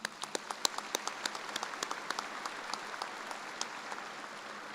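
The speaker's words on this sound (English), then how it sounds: "Please join me again in a round of applause for these individuals." Applause at a spring commencement ceremony for health and human sciences graduates: steady clapping from a seated audience with a few sharp individual claps standing out, moderately loud and carrying on alone throughout.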